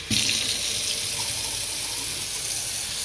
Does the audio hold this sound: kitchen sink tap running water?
yes